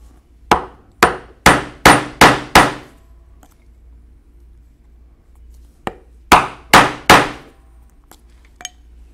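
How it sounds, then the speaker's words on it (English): An oblong leather punch is hammered through leather to cut a 3/4 inch slot, giving sharp hard knocks: five blows in a quick steady rhythm, a pause, then another run of four, close and loud. "we'll also punch a 3/4 inch slot with our oblong punch"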